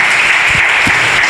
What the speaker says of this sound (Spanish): Denle un fuerte aplauso al Señor si le va a aplaudir a Él.